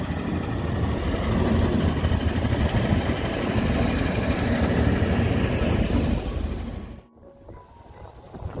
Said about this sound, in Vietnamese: Rồi chuẩn bị nổ máy đi thôi.